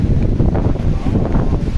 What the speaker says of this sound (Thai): เพราะลมมันเย็น